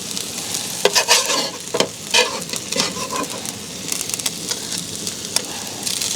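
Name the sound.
rice cooking and being stirred in a pan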